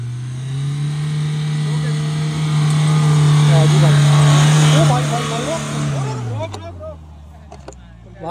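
A Mahindra Thar Roxx SUV on alloy wheels drives off-road with a loud, steady engine drone that swells midway and then fades as it pulls away, with people talking nearby.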